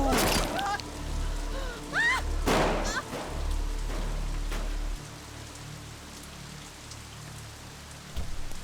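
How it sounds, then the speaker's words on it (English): Heavy rain falling in a Like A Dragon: Infinite Wealth game scene, a constant hiss broken by several sharp bursts and a brief whistling tone early on, with the downpour carrying on steadily to the end. "I guess the rain must have been really loud then"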